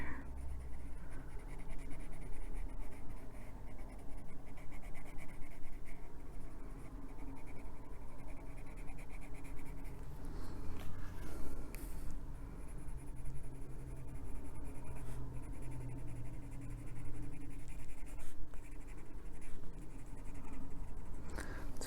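Colored pencil scratches steadily across paper while coloring brown tones, a close, continuous dry rasp of repeated back-and-forth strokes at a quiet, even level.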